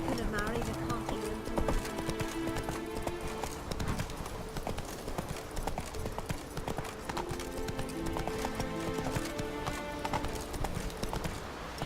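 Roach the horse in The Witcher 3 gallops with rapid rhythmic hoofbeats throughout, while game music and character speech play over them.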